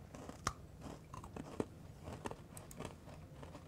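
Bites into a Fortnum & Mason salted caramel biscuit, heard as several quiet, close crunches spread over a few seconds with no talking.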